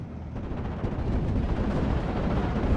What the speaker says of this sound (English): Rockets coming on in.